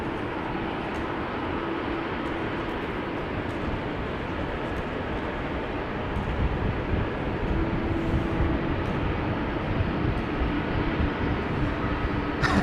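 A China Airlines airliner bound for Taipei at a wet, rainy Amsterdam Schiphol airport makes a distant jet rumble under a constant hiss of rain, the roar swelling slightly in the second half.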